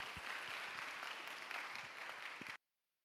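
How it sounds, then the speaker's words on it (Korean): A church congregation claps together in blessing for a newly married couple at a Sunday youth worship service, a dense, steady wash of applause that stops abruptly near the end into silence. "축복의 박수 함께 하겠습니다."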